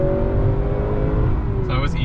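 A 2021 Honda Accord 2.0T accelerating from 50 to 60 mph in eco mode, heard from inside as a steady, moderately loud engine drone with rising tonal harmonics, over road noise and without talk.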